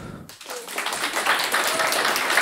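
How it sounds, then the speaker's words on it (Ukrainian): Audience at a Ukrainian stand-up comedy show bursts into applause after a brief pause, the clapping building quickly and holding steady as a dense, continuous wash of many hands, with some voices mixed in. "Ви аплодуєте мені"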